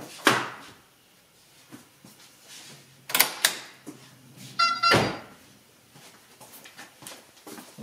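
Hood release cable pulled on a Mercedes W203 with a hood that won't open, giving sharp mechanical clunks and rattles of the latch, several loud close thumps with a brief metallic clatter among quieter handling noises.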